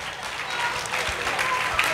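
Audience applause at an international folklore festival in Lavello, a steady wash of clapping from a crowd at moderate distance, continuing evenly throughout with some mixed voices.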